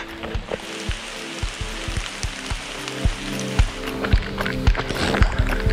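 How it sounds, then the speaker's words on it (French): Steady rain patters and drips onto surfaces nearby, a dense continuous wash with irregular heavier drops and splashes throughout, no voices. "je commence à avoir un petit peu ma claque de cette pluie là"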